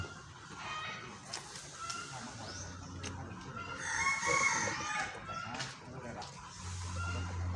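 Chickens and a rooster at a temple ground cluck and crow at moderate distance, with a couple of crows standing out over a soft outdoor background.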